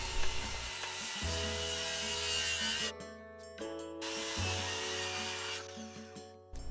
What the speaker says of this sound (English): I cut off the ends to get it to slightly more manageable pieces.